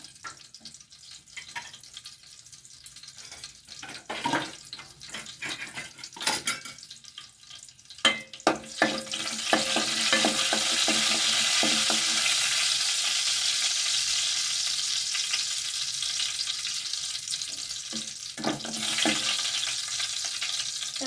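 Scattered pops and crackles give way to a steady, loud sizzle of mustard seeds frying in hot oil that continues to the end.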